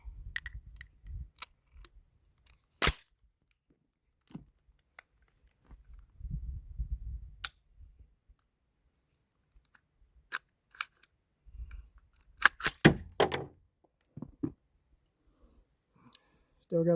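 A BCM 11.5 rifle fitted with an FRT trigger makes a sharp trigger click but fails to fire. Scattered mechanical clicks and handling noises come in short bursts, with low speech between them in a quiet room.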